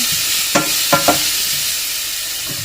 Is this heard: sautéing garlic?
yes